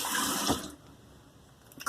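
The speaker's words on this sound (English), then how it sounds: "Let's rinse the blade in hot water again." Hot tap water running from a faucet as a razor blade is rinsed, a close, bright gushing stream for the first half second or so before the flow cuts off, leaving quiet room tone.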